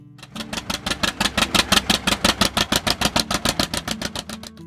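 A John Deere 70 two-cylinder diesel tractor engine runs steadily with a loud, even, rapid chugging beat, close up and with no talk.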